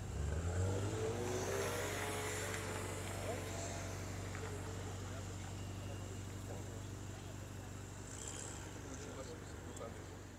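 A Mazda MX-5 engine idles and hums at a car meet in Lille, a steady low drone heard at moderate distance, with people talking nearby.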